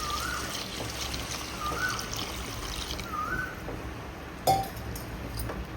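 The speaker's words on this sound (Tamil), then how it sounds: "இப்போ தண்ணி சேர்த்துக்கலாம்." Water is poured into a simmering Chettinad-style chicken gravy as a quiet, steady trickle, with a single sharp clink from a vessel partway through.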